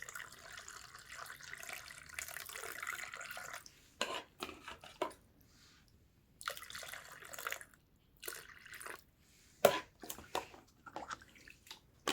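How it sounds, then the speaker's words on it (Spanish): Water poured from a container into the cell of a car battery during repair, an uneven gurgling pour that starts and stops in several short bursts with quiet gaps between. "Y por último, lleno de agua esta celda."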